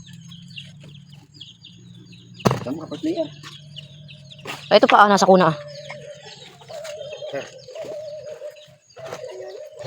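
Chickens cluck and a rooster-like bird calls in an outdoor rural setting, with bursts of clucking and fowl chatter over several seconds while people talk nearby.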